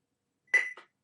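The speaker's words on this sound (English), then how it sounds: "so you hear a beep" A single short electronic beep from a Careium i10 alarm unit during pairing, crisp and close against silence, followed by a brief fainter tail.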